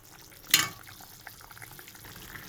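Cauliflower curry bubbling in a pan, a quiet steady simmer with a single sharp hiss or sizzle burst early on.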